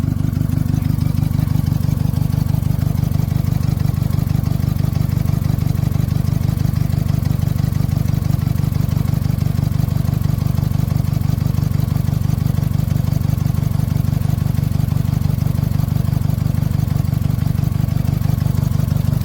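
A 2001 Honda Civic LX engine idles steadily while warming up, a loud, continuous low rumble with no voices, holding an even pitch throughout.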